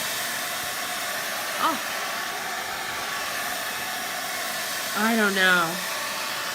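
A hair dryer blows steadily, drying milk paint, with brief spoken words interrupting twice over the continuous airflow noise.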